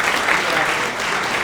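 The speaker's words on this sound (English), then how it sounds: "If you could give a round of applause." An audience at a startup event gives a panel a continuous round of applause, a dense, loud clapping that fills the space without letup.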